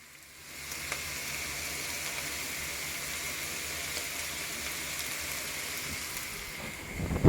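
Zucchini, onion and bacon sautéing in a pan, a steady, moderate sizzle that rises after a quiet start and holds evenly, with a brief louder stir at the end and no talking.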